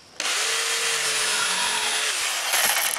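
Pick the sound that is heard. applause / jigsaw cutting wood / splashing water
jigsaw cutting wood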